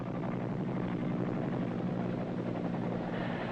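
Military helicopter in the Vietnam War carrying troops: steady rotor thump and turbine drone, continuous and moderately distant, with no voices.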